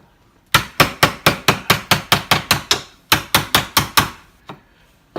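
Chisel struck repeatedly with a mallet to cut into a wooden mallet handle, a run of about fifteen sharp, evenly paced, close knocks with a brief break partway, then a final lone hit.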